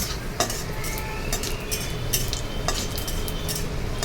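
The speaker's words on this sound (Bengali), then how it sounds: "এবার কড়াইয়ের মধ্যে তেল দিয়ে তার মধ্যে 2টো শুকনো লঙ্কা দিয়ে 5 ফোড়ন দিয়ে এবার আমি ভালো করে একটু তাতিয়ে নেব।" Dried red chillies and panch phoron spices crackle and sizzle in hot oil in a kadai, a steady close frying hiss broken by a few sharp spatter pops and light metal scrapes, with no talking.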